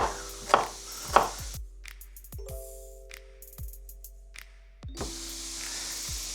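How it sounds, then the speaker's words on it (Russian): Several sharp knife chops on a board as onions are cut, a couple of quick cuts early then scattered single thuds, close by with a faint background hum. "мы сейчас порежем лук"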